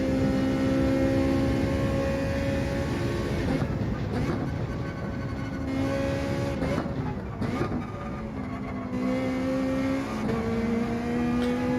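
A Ferrari Gr.4 race car in Gran Turismo 7 racing at Suzuka: a loud, close engine drone climbs in pitch through the gears, with short dips at shifts and brief lifts off the throttle, and no talking.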